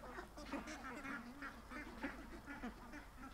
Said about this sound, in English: Me herding the ducks into the pen.